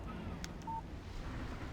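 A phone text message alert sounds in the video game Alan Wake, a single short electronic tone under low outdoor ambience.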